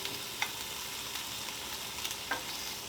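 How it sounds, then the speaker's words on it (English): Canadian bacon fries on a Blackstone E-Series 17-inch tabletop griddle with a steady, dense sizzle, close and loud, broken by a few faint scrapes and clicks; no voices. "Let's go ahead and flip the Canadian bacon over."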